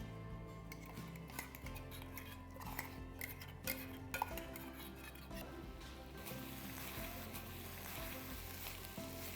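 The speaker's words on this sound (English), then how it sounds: "just a drop of oil, not too much, because this recipe really does not have oil per se. It's just like a drop of oil. And to this, I'm going to add in the spice mix." A spice mix sizzles in a drop of oil in a pan for masala Maggi noodles, a soft steady frying hiss with occasional clinks of a utensil against the pan.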